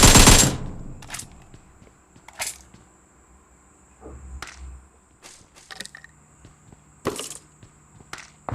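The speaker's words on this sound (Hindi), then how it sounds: "गोलियों की आवाज़ें" Gunfire from a video game: a loud burst at the start, then scattered sharp shots and short volleys, some distant, with no voices.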